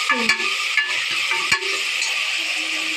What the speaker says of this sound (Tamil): இப்போ 2 உருளைக்கிழங்கு சேர்த்து இதையும் நல்லா வதக்கிக்கலாம்